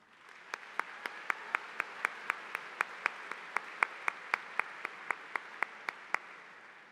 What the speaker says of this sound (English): You may now applaud.